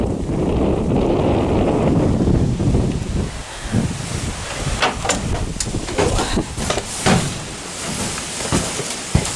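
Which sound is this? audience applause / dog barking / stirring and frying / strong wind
strong wind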